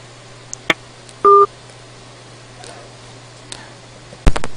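A Skype call connects during a radio broadcast, with a short two-tone dialing beep near the middle, a few faint clicks, and a sharp burst of line noise at the end over a low steady hum.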